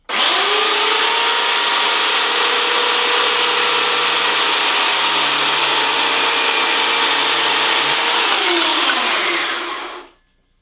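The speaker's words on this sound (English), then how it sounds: "You cut it out with the chainsaw" A chainsaw's loud, steady motorized whine roars continuously for about ten seconds, its pitch dipping slightly before the engine cuts off.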